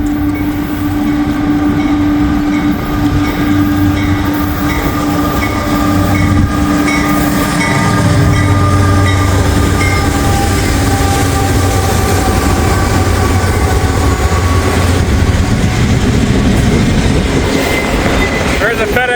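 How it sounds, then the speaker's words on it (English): A Norfolk Southern intermodal freight train rolls past close by, a loud, continuous rumble of wagons and wheels with steady droning engine tones that swell in the middle and hold to the end. "here comes that train, Norfolk Southern"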